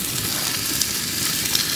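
Food sizzling and frying in a small frying pan at a winter camp inside a tent, a steady dense crackle close up with faint pops and no talk.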